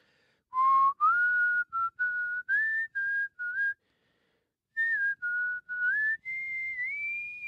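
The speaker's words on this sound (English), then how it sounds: "3-part harmony whistles" A person whistles a melody in clear, pure-toned phrases, one note line at a time, with short pauses between bursts and a longer silence midway, loud and close.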